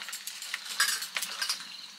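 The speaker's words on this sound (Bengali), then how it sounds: "কড়াইতে তেল দিয়ে দিয়েছি, এবার মাছগুলো ভেজে নেব।" Fish frying in oil in a wok, a steady close hiss with light scraping and stirring clicks throughout.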